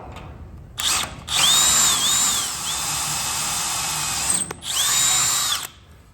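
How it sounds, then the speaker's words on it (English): A power drill runs a 1/4 inch bit through a 1/4 inch bushing into a steel frame on a Ford F100 with a Crown Vic swap, whining loudly and steadily for several seconds with a brief pause and restart. "1/4 inch drill bit through their 1/4 inch bushing."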